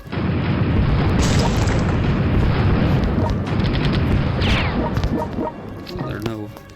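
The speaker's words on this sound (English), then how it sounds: "let's do some missiles on Toronto" Missile strikes on Toronto in the strategy game World Conqueror 4, heard as a continuous dense roar of loud overlapping explosions and rumbling booms, with sharper crashes and chirping effects toward the end.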